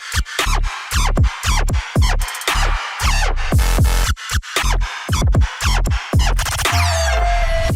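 Chopped electronic music from a sample pack demo, with punchy stuttering bass stabs, gated synth bursts and sweeping risers in a busy, loud, driving pattern, ending on a sustained filtered tone.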